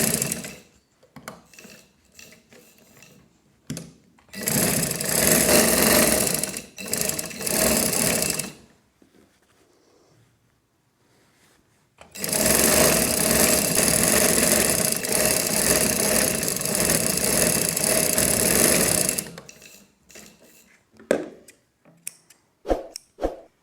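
A sewing machine stitches the waist seam of a baby girl's frock in two long whirring runs, the second lasting about seven seconds, with scattered handling clicks and knocks of fabric work between them, close and clear.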